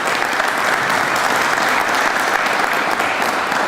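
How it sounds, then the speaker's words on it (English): Steady, dense applause from an audience at a signing ceremony, honoring a senator; loud and continuous with no break, no talking heard over it. "yes, you do deserve a round of applause"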